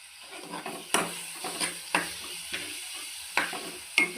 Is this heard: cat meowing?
no